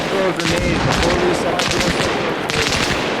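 Sustained gunfire in the military shooter Arma Reforger, dense rapid bursts and overlapping shots from several weapons, loud and continuous through the whole stretch, with radio-style voices calling out amid the firing.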